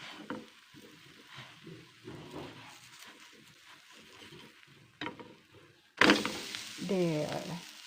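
An onion chive pancake frying in a pan gives a soft, steady sizzle with scrapes as it is flipped. A thump follows, then a louder burst of sizzling, and someone talks over it near the end.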